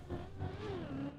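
A racing video game car engine revs briefly with a rising and falling whine, a short burst of mid-pitched motor tone with no voice over it.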